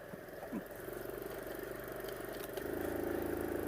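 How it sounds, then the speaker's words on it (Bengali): A Kite Plus car engine labours in third gear at low speed, around 20, giving a steady, muffled drone that grows a bit heavier toward the end. "এই যে আমার গাড়িটা হুট করে কিন্তু মানে ইঞ্জিনের শব্দটাও চেঞ্জ হয়ে গেল, ইঞ্জিন প্রতিবাদ জানানো শুরু করে দিছে"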